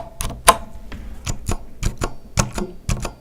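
A close series of crisp clacks comes from the left shift key on a Corsair Strafe keyboard with Cherry switches, pressed about eight times at an uneven pace, with a slight metallic ring and no speech.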